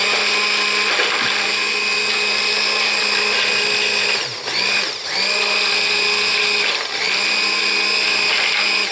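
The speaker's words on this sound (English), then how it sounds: "So I'm just going to go ahead and start stick blending this." A stick blender whirs steadily through hot-process crockpot soap batter made with lye, a loud continuous motor drone with brief dips in pitch as the blade shifts in the pot.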